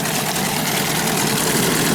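A Hangkai 9.8 outboard motor runs steadily in a water barrel during break-in, giving a loud, continuous engine drone with churning water noise throughout.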